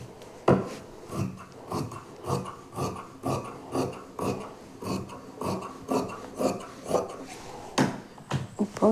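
Scissors snip through fabric being cut for an XXL full umbrella frock, a steady series of close, crisp cuts in an uneven rhythm with no talking.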